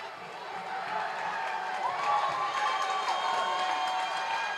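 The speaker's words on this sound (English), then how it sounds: "Hornets home crowd electrifying here" A home crowd cheers in a gym during a Delaware State women's college volleyball match, a broad, moderately distant roar that swells in the middle and holds steady.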